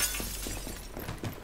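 Window glass shatters in the shooter game Rogue Company, a sharp crash followed by a scatter of smaller tinkling fragments, close and loud with no talk over it.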